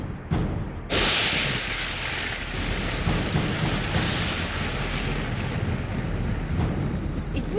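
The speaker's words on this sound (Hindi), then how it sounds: "मम्मी, मम्मी, ये तूफान कहाँ से आ गया अचानक?" Stormy wind roars continuously in an animated Hindi devotional film, a loud, dense rush broken by a few sharp thumping gusts.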